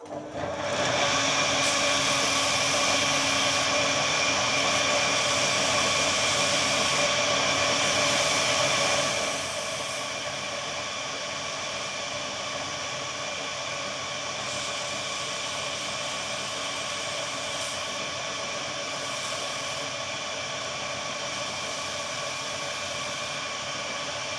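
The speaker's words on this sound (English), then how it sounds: "Just going to give that ferrule just a light sand to take any sharp edges off it." A powered sander gives a knife's metal ferrule a light sanding, a loud, close, steady whirring hiss that drops to a quieter, lower drone after about ten seconds and keeps running.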